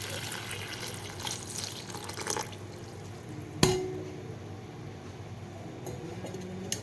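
Water sloshes and trickles in a bowl as Brussels sprouts are washed in salted water, with a sharp clink of glass partway through, close and soft.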